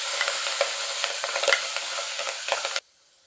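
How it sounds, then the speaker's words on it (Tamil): Green chilies frying in a pan with asafoetida, a loud continuous sizzle broken by scraping stirs, which stops abruptly near the end. "பச்சை மிளகாய் நல்லா வதங்கிருச்சு"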